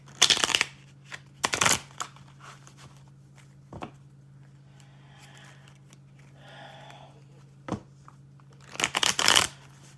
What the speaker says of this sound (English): I am going to get some cards from my confirmation deck.